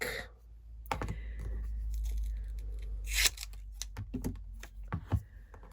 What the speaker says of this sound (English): I'm going to get my double-sided tape down on the back